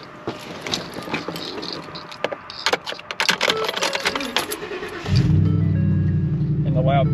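A truck engine starts with a loud, rumbling exhaust that settles into a steady throaty idle after a stretch of talking and clatter.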